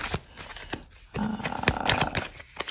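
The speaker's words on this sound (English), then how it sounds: "Wait, I'm kind of shuffling, not the best." A deck of tarot cards is shuffled by hand up close, with soft riffling and flicking bursts, a brief pause, then a denser stretch of rustling and tapping.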